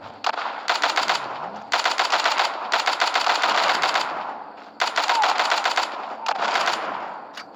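Automatic machine gun fire in the zombie shooter game The Walking Zombie 2: several loud, rapid-fire volleys separated by short pauses.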